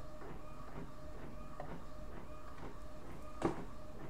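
A home printer runs steadily on its own, a soft mechanical whir with a repeating rhythmic feed pattern and a brief clack near the end, fairly quiet throughout.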